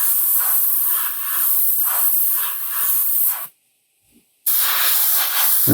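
Paint spray hisses steadily from an airbrush or spray gun as overspray drifts over a quarter-scale custom Thor sculpture, a continuous close hiss with slight pulses that cuts out for about a second before resuming.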